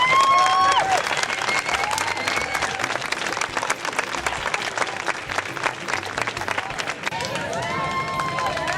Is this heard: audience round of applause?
yes